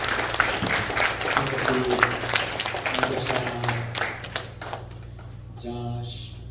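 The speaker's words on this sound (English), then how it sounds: "Let's go ahead and give them a round of applause." Applause for leaders at a 2022 youth night gathering, brisk crisp clapping from a nearby crowd that thins out and trails off, with a voice talking over the end.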